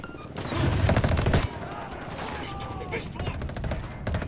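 Dense automatic gunfire from the Ghost Recon Wildlands shooter game rattles in rapid bursts, heaviest early then continuing in scattered volleys, with voices talking over the fighting.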